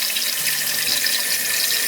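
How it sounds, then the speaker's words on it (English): A kitchen tap runs steadily into a bowl of rinsed eggs, filling it with cold water for an ice bath: a continuous, close, hissing gush heard alone. "And then fill this back up with water"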